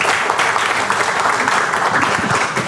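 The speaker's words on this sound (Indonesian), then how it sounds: "Tepuk tangan." An indoor audience at a business presentation breaks into loud, sustained applause, a dense wash of clapping that stays steady throughout.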